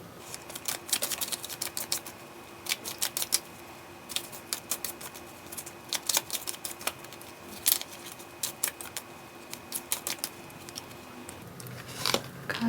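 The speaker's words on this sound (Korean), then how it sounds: "저는 카드를 섞고 있을게요." Tarot cards shuffled by hand, with repeated soft crisp riffling bursts and taps in an irregular rhythm, faint and close in a quiet room.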